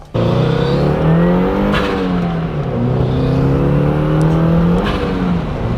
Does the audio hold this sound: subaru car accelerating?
yes